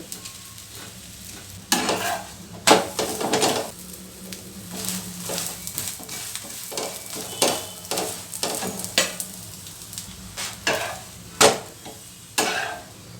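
A rice chapati cooks in oil on a pan, giving a constant low sizzle punctuated by repeated sharp scrapes and taps of a spatula at irregular intervals, close by and without speech.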